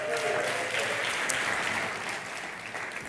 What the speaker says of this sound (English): So give a round of applause for everyone on our Maple Ridge campus.